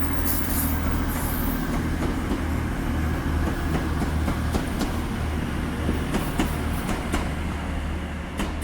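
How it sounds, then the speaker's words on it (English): A TransPennine Express class 185 diesel unit, 185105, pulls out of York Station with a continuous low rumble and engine drone, faint rhythmic clicks of wheels over rail joints, and distant platform noise, no talking. "First TransPennine Express is now departing from York Station. 185105 going to Liverpool Lime Street."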